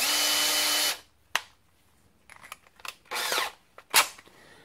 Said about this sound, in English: If we just try and stick a drill bit straight onto that metal, 8mm